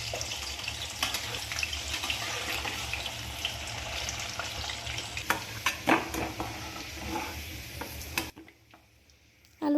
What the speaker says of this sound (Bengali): তেলটা ভালোভাবে গরম হয়ে গেছে এই তেলে ফার্স্ট আলু কষে নেব